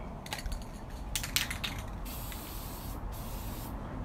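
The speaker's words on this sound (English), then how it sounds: "We're gonna hit it with the clear coat." Oil-based clear satin clear coat sprayed from an aerosol can onto a camouflage-painted piece, a steady close hiss with short bursts at the start, then continuous spraying.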